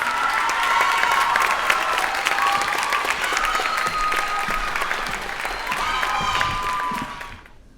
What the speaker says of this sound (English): A big round of applause for our seniors, please.